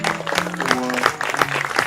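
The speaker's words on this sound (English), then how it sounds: "let's give a round of applause to the selection committee" An audience at an anniversary literary reading claps in a close, continuous patter while a voice carries on faintly beneath it.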